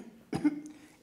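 A single short, sharp throat clearing, with a brief cough-like burst, performed to demonstrate how a child repeatedly clears the throat, close and alone.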